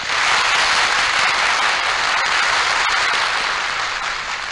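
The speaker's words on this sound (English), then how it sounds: "Applause beats the rise of the curtain and muffled cries of excitement" A theatre audience breaks into loud, dense applause as the curtain rises on a Robin Hood production, a continuous roar of clapping that holds steady throughout.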